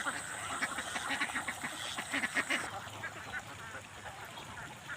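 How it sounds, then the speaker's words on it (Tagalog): Domestic ducks quacking in a rapid, overlapping chorus, with a dense cluster of calls in the first half that then thins out into scattered quacks. "kinuha na natin yung alagang itik natin"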